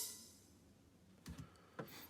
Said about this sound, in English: Then I have this open hi-hat that sounds like this.